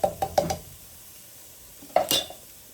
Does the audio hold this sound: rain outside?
no